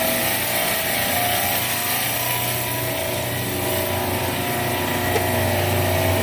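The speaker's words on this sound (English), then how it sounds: "Our condenser fans are running now." Condenser fans on a refrigeration rack running outdoors, a loud, steady broadband whoosh and motor drone without change, close by with no voices.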